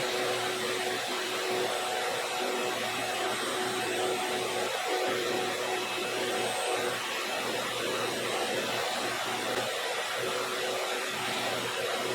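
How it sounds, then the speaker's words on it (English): Steady, loud whirring roar of a track saw cutting wood panels to length, continuous and close with a dust-extraction-like hiss throughout. "We're cutting the panels to length with the track saw"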